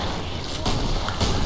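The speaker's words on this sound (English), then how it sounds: "It's a hand cannon." Hand cannon gunfire in the video game Killing Floor: heavy booming shots, with two sharper blasts, in dense, loud action noise.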